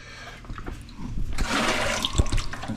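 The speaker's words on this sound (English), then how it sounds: "take a little water out of there and dump it in here" Water poured from a filter into a bucket during a winter filter change at a homestead in Alaska, a close, rushing splash that swells after a second and keeps flowing steadily.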